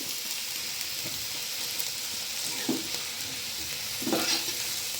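Capcay stir-fries in a pan, giving a soft continuous sizzle with a couple of scraping stirring strokes in the second half. The sound is fairly quiet, and no one talks.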